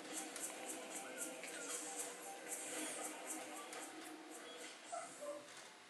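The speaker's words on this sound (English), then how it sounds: "Puppy! I hear puppy!" Faint puppy whimpers and small yips rise over a soft background in the Metroid Prime 2 Echoes game, coming as scattered high cries across several seconds.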